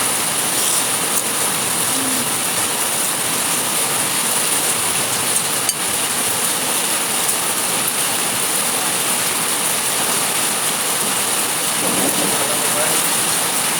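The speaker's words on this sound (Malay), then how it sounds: "Maghrib tadi hujan. Sampai sekarang belum berhenti lagi." Heavy evening rain pours down without pause, a dense, even hiss that fills the whole stretch, with a faint voice barely surfacing beneath it.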